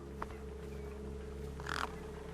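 Crows caw at a feast in a video game, with two short harsh calls, one near the start and a louder burst later, rising over a steady low droning background.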